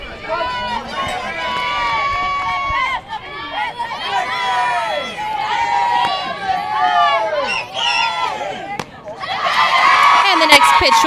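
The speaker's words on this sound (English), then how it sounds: "our girls and the crowd have both gotten louder" A crowd at a high school softball game on senior night cheers and yells continuously, a loud babble of many voices with shrill shouts that swell toward the end.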